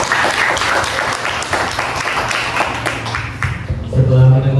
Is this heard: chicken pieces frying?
no